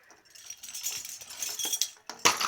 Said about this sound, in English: He just wants to play with that chain.